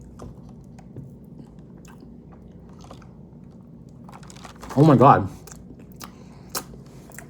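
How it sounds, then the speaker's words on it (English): Stale, very dry cake is bitten and chewed with a short, loud crunch standing out over quiet room noise, and a voice speaks briefly. "It's staler than stale. Like, you can hear it crunching."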